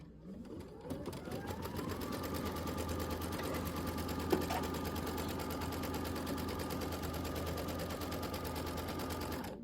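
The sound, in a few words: sewing machine stitching batting tack down on quilt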